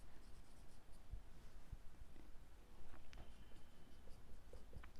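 Pen or chalk scratches softly as a teacher writes an answer during a tax arithmetic lesson, faint intermittent strokes and taps against a quiet room background with no talking.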